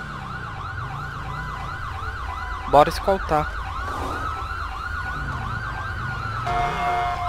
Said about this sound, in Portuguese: Ambulância de GTA